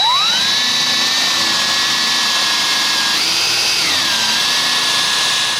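A power drill bores holes into the corner piece of a Midway Pac-Man Cabaret Mini arcade cabinet, guided by a jig; a loud, steady motor whine that rises in pitch briefly near the end and then settles.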